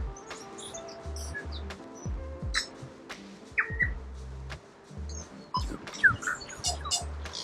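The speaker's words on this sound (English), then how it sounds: "You hear those birds?" Several birds chirp and tweet in short, scattered calls on a coastal escarpment track in New Zealand, against a low, intermittent rumbling background; no one speaks.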